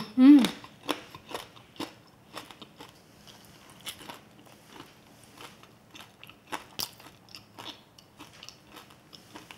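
Crunchy candied sweet potato (mattang), coated in hardened syrup, is bitten with one loud close crunch and then chewed in a steady series of crisp, crackling crunches.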